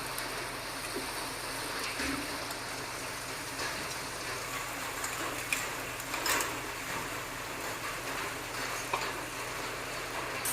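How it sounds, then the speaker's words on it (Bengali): Spice paste with garam masala is stirred in a pan for an egg and potato curry, giving a continuous soft frying hiss with faint scraping and occasional light clicks. "মশলাটাকে নেড়ে চেড়ে নিচ্ছি।"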